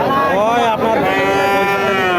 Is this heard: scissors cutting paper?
no